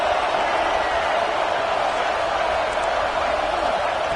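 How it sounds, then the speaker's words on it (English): A stadium crowd roars in an NCAA college football video game, a constant dense wash of cheering noise at a steady level throughout, with no talking. "And here comes the noise. This crowd is trying to inspire this defense to make a big red zone stop."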